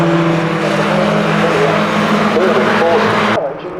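Caterham race car engines at Cadwell Park roar in a continuous loud drone with rising and falling revs, a commentator talking over them, cutting off sharply near the end.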